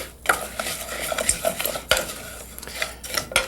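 A utensil stirs basmati rice as it toasts in a pan, giving sharp scraping clinks against the metal at an irregular rhythm over a faint, soft sizzle.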